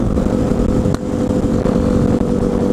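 A motorcycle fitted with a new aftermarket exhaust drones loud and steady while riding, a thick continuous engine roar with wind rumble and no talking.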